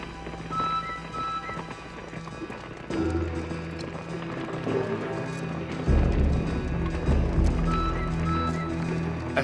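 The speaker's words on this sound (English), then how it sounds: "and then the pounding hooves on the hard ground" Horses' hooves pound hard ground as riders approach, a galloping rumble that grows louder and heavier in surges as the horses draw closer, with no talking.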